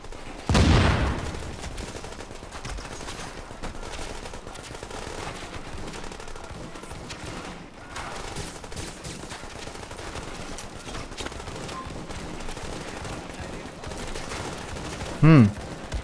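Rapid automatic gunfire from a hacked turret in the video game The Division rattles steadily throughout, with a couple of louder, sharper bursts standing out from the continuous shooting.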